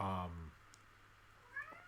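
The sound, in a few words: cat meowing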